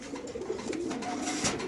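Racer pigeons kept in cages at a market coo softly, low murmuring calls repeating over quiet background noise, fairly faint and close.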